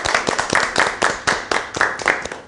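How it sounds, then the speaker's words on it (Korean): A studio audience on a Korean consumer talk show claps to welcome a guest, a loud, dense burst of applause with sharp individual claps, sustained steadily throughout. "자, 박수 한번 하죠"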